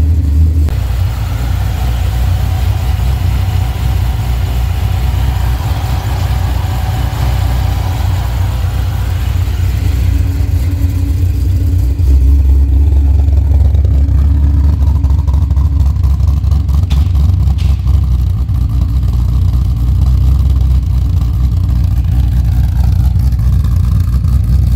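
A cammed Coyote V8 Ford Mustang with a stage 3 ghost cam tune, a loud, deep, choppy idle that surges into revs, rumbling continuously and close for the whole stretch.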